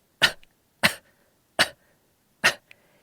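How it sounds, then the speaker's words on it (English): Four short, deliberate pretend coughs spaced evenly apart, close and fairly quiet, with silence between them. "Now, please pretend to cough."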